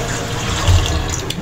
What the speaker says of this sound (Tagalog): So yun guys, ilalagay na natin ng tubig.